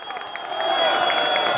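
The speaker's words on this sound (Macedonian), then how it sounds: "Да слушам емоции и аплауз за екипата на Озана Ајас, колку се силни, ајде." An outdoor crowd roars with applause and cheering for team Ozan Ajaz at a finale, a dense, steady wash of clapping and shouts that swells slightly and holds loud throughout.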